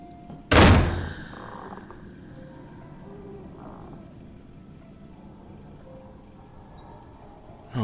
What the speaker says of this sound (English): The door just slammed behind me.